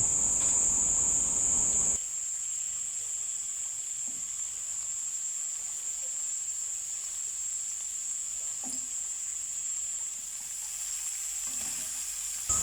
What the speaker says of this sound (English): She'll cook these vegetables together with the garlic for a little bit